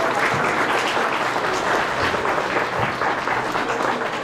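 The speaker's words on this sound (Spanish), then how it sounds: "Brindémosles un fuerte aplauso." An audience at a kindergarten graduation ceremony in Ameyaltepec, Guerrero, claps in a steady, moderately loud burst of many hands, continuous throughout without speech.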